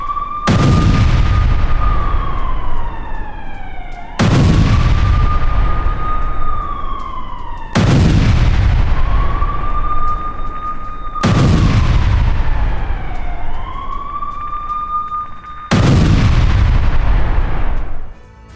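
Israeli bombardment in Lebanon: five heavy, loud explosions or artillery blasts, each booming and rolling off over several seconds, with a siren-like wail sweeping beneath them.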